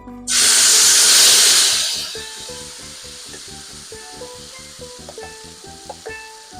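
A loud burst of sizzling as curry spices hit hot oil, hissing strongly at first and then settling into quieter crackling with some light clinks.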